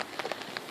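Rain falling outdoors on Place Stanislas, heard as a soft, steady patter with brief splashy bursts throughout, faint and close, with no voices.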